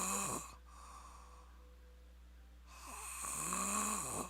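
Loud, close snoring with slow, drawn-out rasping breaths, one at the start and another building near the end, with a quieter gap in between over a steady low hum.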